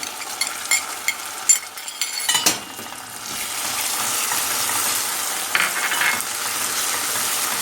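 Thick tomato paste is poured into a hot pan of frying onions and peppers, followed by a loud, steady sizzle of frying that continues to the end.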